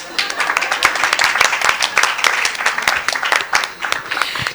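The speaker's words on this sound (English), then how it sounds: "Why is only one person clapping?" Applause at a young members' conference at the Hilton in Abuja, scattered and uneven claps from a few hands in the room, fairly close and loud, with irregular rhythm throughout.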